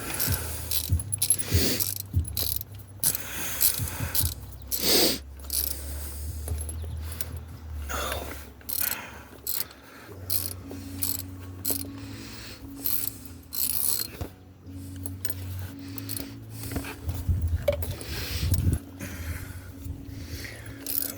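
Ratchet tightening bolts on the water pump of a 2005 Ford Mustang 4.0 V6, quick bursts of clicking with pauses between, close and clear, plus some metallic handling sounds.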